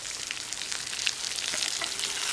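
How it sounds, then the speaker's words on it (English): Salmon fillets sear in a hot pot with garlic, a steady close sizzle and crackle of frying oil with small pops, no voices. "I'm just searing these salmon."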